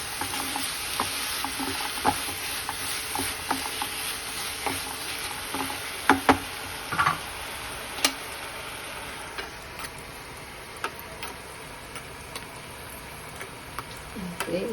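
Ash gourd halwa with sugar being stirred in a pan: a steady low sizzle under repeated scraping strokes and small clicks of the spoon against the pan, close and fairly quiet throughout.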